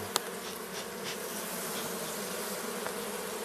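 Honey bees buzz steadily inside an opened hive, a dense, continuous hum close by, with a few brief sharper ticks near the start and no talking.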